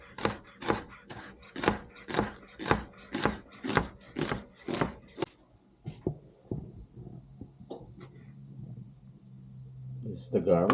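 Knife dicing carrots on a wooden cutting board, a brisk run of about a dozen sharp, evenly spaced chops, close and crisp, then stopping and giving way to softer handling noises and a low hum.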